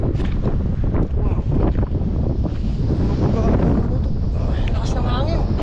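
Strong wind roaring across the microphone at sea aboard a fishing boat, a steady loud rush with waves beneath and faint voices in the background.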